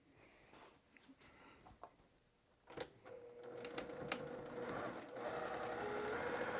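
A sewing machine back stitches a narrow seam on an appliqué candy bag. After a few soft clicks and handling sounds it starts about halfway through and runs steadily and close until the end.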